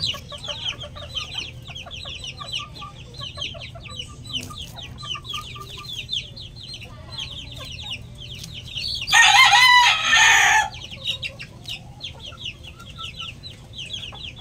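White Kelso gamefowl in a yard, with steady clucking and chatter throughout and one loud, close rooster crow standing out partway through.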